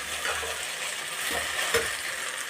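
Okra (bendekayi) frying in a pan sizzles steadily and softly, with a few light stirring scrapes of a utensil, close by and without talk.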